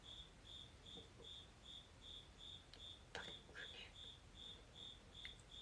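A cricket chirps in a steady, evenly spaced series of short shrill pulses, about two per second, over faint background noise with a few soft clicks and knocks.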